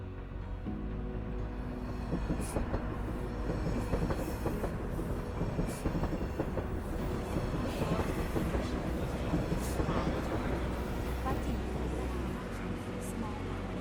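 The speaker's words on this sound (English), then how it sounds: "Hanoi Train Street in Vietnam turns a narrow residential alley into a place where a giant train passes only a few feet from everyday life" Giant train passing through a narrow residential alley on Hanoi Train Street in Vietnam, loud rumbling and clattering wheels sustained throughout, with a voice speaking over it.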